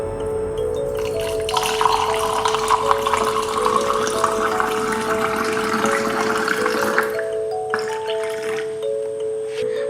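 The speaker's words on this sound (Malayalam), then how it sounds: "നമുക്ക് ജ്യൂസ് ഒഴിക്കാം." Mango, ginger and mint juice poured over ice into a glass, a close, continuous trickling stream lasting most of ten seconds before it stops, with faint clinks near the end and no talk.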